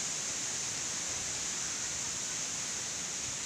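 Strong typhoon wind roars over a pig farm as a loud, steady broadband rush with no gusting breaks, close to the microphone and without audible speech.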